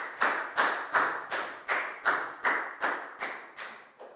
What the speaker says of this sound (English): High five and a big round of applause for Pat